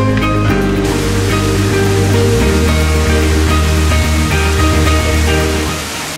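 Steady, loud rush of a waterfall cascading over rock in a canyon near Sangardak, Tajikistan, a dense continuous roar with no voices, fading slightly at the very end.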